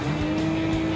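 A Nissan 350Z race car in Gran Turismo 5 roars steadily under acceleration, a loud continuous engine drone holding a single pitch for about a second with no talk over it.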